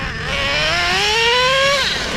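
A Traxxas Revo 3.3 nitro RC car screams past with a high, rising two-stroke engine whine that climbs steadily in pitch, then drops off as it speeds away, loud and close throughout.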